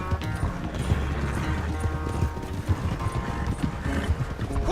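Horse hooves clip-clopping in a steady galloping rhythm in the video game Red Dead Redemption 2, close and continuous, with game ambience and an occasional faint snort beneath.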